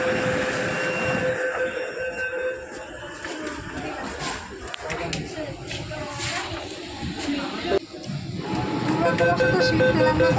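An underwater metro train runs beneath the Ganga with a steady broadband rumble and hiss throughout, while people talk over the noise inside the carriage.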